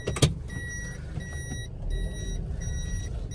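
Electric power window motor in a Toyota car rolling the glass up, a steady whine with a short thump at the start, heard from inside the cabin over low engine idle.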